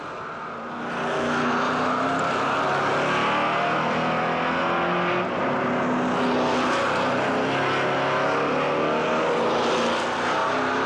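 Race cars, including a Ford Mustang, roar around the Zandvoort circuit in a loud, continuous engine drone that swells and fades slightly as the pack passes, rising in after a short quiet start.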